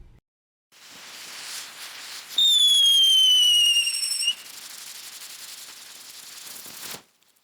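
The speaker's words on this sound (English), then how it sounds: "I think we need to edit in that sound where we have the fireworks going off." A firework whistles upward in a sharp descending shriek, surrounded by crackling hiss that fades out after several seconds.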